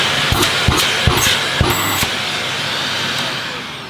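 A Shark Powered Lift-Away vacuum cleaner runs without its exhaust filter, a loud, steady roaring whine with a few soft thumps, close by and unaccompanied by speech.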